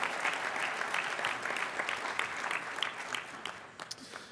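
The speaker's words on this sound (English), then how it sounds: "Let's give one more round of applause for Mayor Braley" Applause from a mayors' conference plenary audience in Dallas, saluting Mayor Braley. Brisk, dense clapping fills the room and thins out toward the end.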